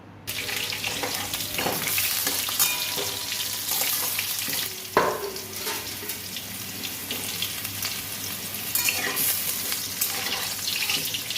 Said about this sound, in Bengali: তেল পরিমাণ মতো আমি ভেজে নেব মাংসের আলু